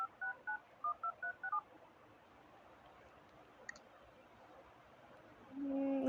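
A run of telephone keypad dialing tones, about seven distinct beeps in quick rhythm, placed while making a phone call, followed by quiet background and a louder tone rising at the end; no speech.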